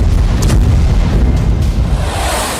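Explosions from Russian strikes on Avdiivka sound as a continuous heavy, rumbling low boom that stays loud and dense throughout, with no voices.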